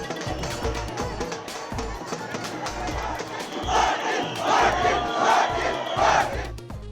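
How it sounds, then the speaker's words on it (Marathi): Large crowd of Maratha protesters at CSMT station in Mumbai, dancing, blowing horns and chanting anti-government slogans; a dense roar of many voices with rhythmic louder shouted bursts swelling in the second half. "सीएसएमटी स्टेशनवर आंदोलकांची प्रचंड गर्दी. नाचत, भोंगे वाजवत सरकारविरोधात घोषणाबाजी."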